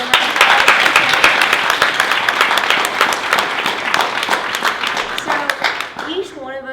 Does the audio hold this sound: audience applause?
yes